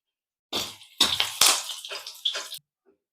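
Cashews dropped into hot oil in a pan with curry leaves and chilies, giving a loud close sizzle that runs for about two seconds and then cuts off.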